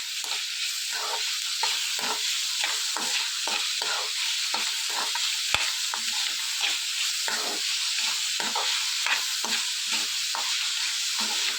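Onions frying in oil for a tomato curry, with a steady close sizzle broken by repeated scraping stir strokes and one sharp knock partway through, no voices.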